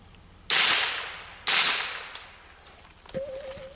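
Two sharp, loud gunshots from a .22 M4 rifle ring out about a second apart, each with a quickly fading tail, followed by quieter ambient noise and a faint tonal hum.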